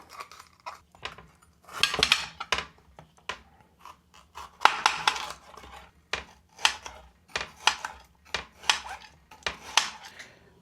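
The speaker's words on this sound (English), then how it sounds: "start chopping up your bell peppers" A knife chops bell peppers repeatedly on a cutting board in quick uneven bursts, sharp close clicks and taps with short pauses between runs.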